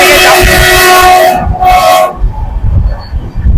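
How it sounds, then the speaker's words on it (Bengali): The Sairang–Kolkata Express roars past close by through Kanpui station in Mizoram with a sustained horn blaring, then the horn cuts off, leaving the rumble of the rolling train. "ট্রেন ক্রস করছে কানপুই কানপুই স্টেশন ক্রস করছে"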